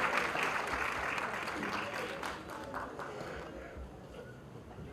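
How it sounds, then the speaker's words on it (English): Awards show audience applause for a celebrity guest, a broad wash of clapping that fades gradually toward the end, with some voices mixed in. "Huge round of applause, ladies and gentlemen."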